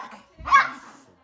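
A dog on a rural Brazilian farm gives a single short bark or yelp, close and fairly loud, with people talking softly before and after.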